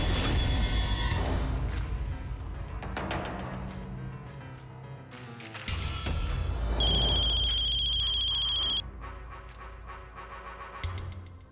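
A telephone rings with a bright, steady electronic tone during a phone call in a Bhojpuri TV drama. It is set among dramatic background music and sound effects, with the ring standing out clearly for a couple of seconds.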